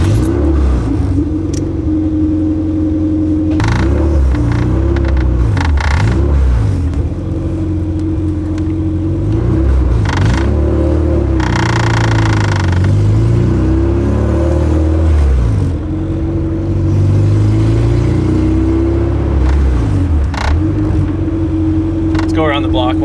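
A Honda Civic EG hatchback fitted with a fully built LS VTEC engine drives nearby, its engine loud and continuous with pitch rising and falling through revs and gear changes, while people talk over it.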